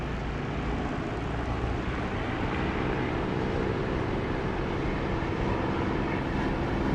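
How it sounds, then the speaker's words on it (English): An aircraft engine hums steadily and loudly on approach to a runway in the DCS flight simulator, a continuous broadband roar with no voices. "You should be able to hear a raise in engine level as I get close to the runway"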